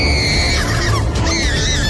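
A woman screams in a horror audio story, a sustained shrill cry that rises and wavers over about two seconds, loud and close, with no talk over it.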